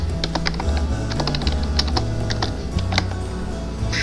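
Steady typing on a computer keyboard while writing Python code, with quick irregular key clicks and occasional heavier thumps, close and clear throughout, no talking.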